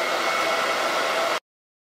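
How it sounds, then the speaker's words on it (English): A hair dryer blows with a steady, loud whooshing hiss while drying glaze on a painted cupboard, then stops abruptly after about a second and a half, leaving silence. "So I tend to take a dryer once I like the look."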